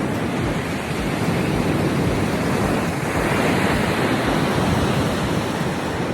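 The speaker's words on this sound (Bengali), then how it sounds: "হাওয়া দিচ্ছে, বৃষ্টি পড়ছে, তার মধ্যেই সমুদ্র," Sea waves and wind at Gopalpur beach on a rainy morning, a loud, unbroken roar of surf mixed with gusty wind buffeting the microphone, no voices.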